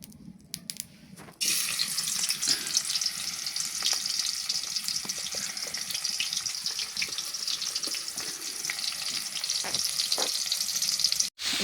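Onions fry in a hot kadai. A sudden loud sizzle starts as they hit the oil and holds as a dense, steady hiss until it cuts off abruptly at the end.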